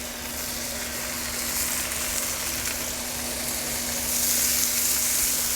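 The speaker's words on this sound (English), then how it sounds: "let's start with the bacon. Like I said, this is our homemade bacon." Homemade bacon frying on a Blackstone griddle, a steady close hiss and crackle of sizzling fat that runs continuously and swells slightly toward the end, with no talk.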